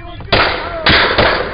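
Gunshots during a police shooting at a roadside confrontation: three sharp loud bangs with hissing decay, recorded from a distance on a camera amid wind noise, with voices faintly audible.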